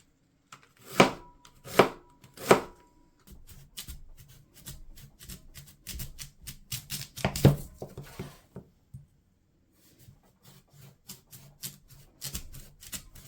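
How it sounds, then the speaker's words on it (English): A knife chops through raw sweet potatoes on a cutting board: three sharp, well-spaced thunks, then a denser run of quicker cuts and scraping knocks, fairly close and quiet, with no talk. "Why are sweet potatoes so hard to cut?"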